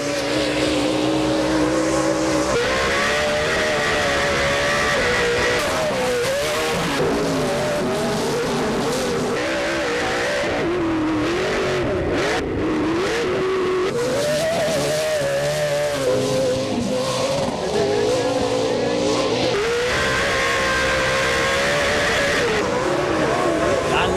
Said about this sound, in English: how these things sound. I mean, big V8 engines.